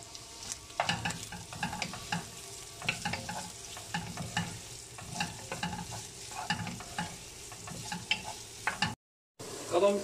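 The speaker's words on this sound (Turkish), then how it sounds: "Ve güzelce kavurmaya devam ediyoruz." Pearl onions and peppers sauté in a pan for an oven-baked meat and vegetable stew, giving a soft continuous sizzle broken by repeated scraping stirs, with a brief gap near the end.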